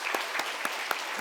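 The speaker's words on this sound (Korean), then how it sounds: "박수로 크게 환영하겠습니다." Applause from a church congregation standing to welcome visiting missionaries during a Sunday worship service, a steady wash of clapping with a few sharper claps standing out, close and fairly loud, with no talking.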